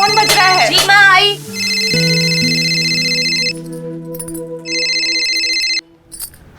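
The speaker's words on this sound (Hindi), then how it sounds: "तेरा फोन बज रहा है।" An electronic phone ringtone plays loud, steady tones in repeating bursts, after a brief voice at the start.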